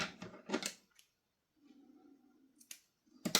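Scissors snipping crochet thread flush against a carrot amigurumi, a couple of short crisp clicks near the mic, then quiet handling.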